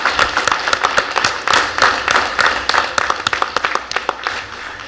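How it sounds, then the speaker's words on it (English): A school board meeting crowd claps for school staff, with crisp, uneven individual claps close by that come in bursts and thin out toward the end, without a full roar of applause. "please give them another round of applause"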